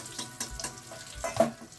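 Eggplant slices fry in hot oil, a steady close sizzle with soft irregular bursts and a few louder crackles near the end, no voices.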